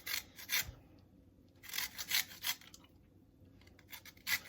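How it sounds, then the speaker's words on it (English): A lemon is rubbed across a grater for zest, making repeated close, dry rasping strokes in short bursts with brief pauses between them. "this should get us about 1 teaspoon of lemon zest"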